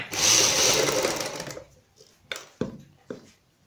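A sewing machine runs a loud, steady stitch along the piping of a kameez edge for a second and a half, then stops, followed by a few sharp handling clicks and knocks.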